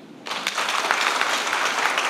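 A crowd at a Congress political rally in India breaks into clapping for the women present, a sudden onset of many hands that settles into steady, dense applause, close and lively, with no voices over it.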